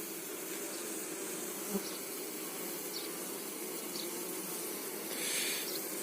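A steady, continuous buzz of honeybees at the hive in the rain fills the scene at an even level, with a few brief louder passes of individual bees flying close by.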